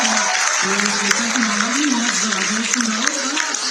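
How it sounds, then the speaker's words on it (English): An audience at a cricket talk gives a round of applause for women's cricket, a steady wash of clapping that runs throughout beneath a voice speaking over it. "That deserves a round of applause"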